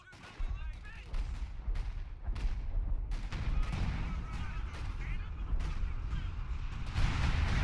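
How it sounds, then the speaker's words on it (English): Artillery barrages pound in the Battle for Caen World War II strategy game, with booming blasts and crackling gunfire layered into a dense, rising roar of battle. "An attack being thwarted by artillery."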